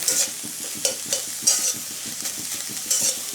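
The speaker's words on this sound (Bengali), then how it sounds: "পালং শাকটা কিন্তু সিদ্ধ হয়ে গেছে। আমি একটু নেড়ে চেড়ে নামিয়ে নেব।" Boiled palong spinach being stirred in a pan, a quick run of soft, rhythmic scraping strokes over a low sizzle, close and without any voices.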